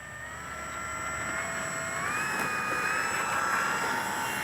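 A Dynam BF-109 RC warbird model plane takes off with a steady, rising electric whine whose pitch climbs as it speeds up and lifts away, heard alone without talking.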